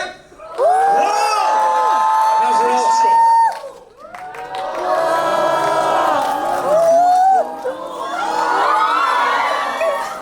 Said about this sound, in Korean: 박수와 환호성 질러주시면요